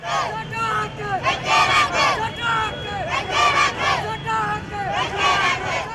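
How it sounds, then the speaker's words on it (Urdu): Private school owners and children protesting against PEEF at Faisal Chowk, Lahore chant slogans outdoors in loud, rhythmic waves of massed voices, each call rising and falling in repeated bursts. "سکولز مالکان اور بچوں نے پیف کے خلاف شدید نعرے بازی کی"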